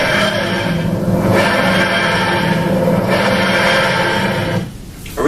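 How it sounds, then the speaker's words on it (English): A TARDIS-style wheezing, grinding sound made by dragging house keys along the strings of an old gutted piano, rising and falling in loud rasping swells and then cutting off near the end. "So this is the sound of Doctor Who's ship, the TARDIS"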